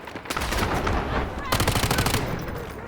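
Rapid automatic gunfire from the video game Delta Force, with loud bursts of fire, a brief lull, then another dense volley, all close and continuous under a bed of game noise.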